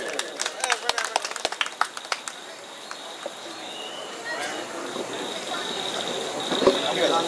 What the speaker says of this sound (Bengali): জোরে হাততালি হোক সকলে মিলে।